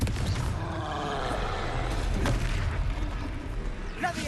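Confringo blasting spell in Hogwarts Legacy combat, a steady roaring, booming blast texture with brief sharp crackles, fairly quiet overall, mixed with faint game sounds and no clear speech.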